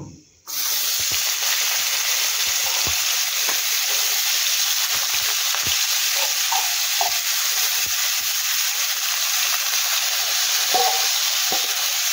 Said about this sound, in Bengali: এবার আমি আলুটাকে 2 মিনিট এটাকে অল্প একটু নুন দেবো, দিয়ে এটাকে একটু ভেজে নেব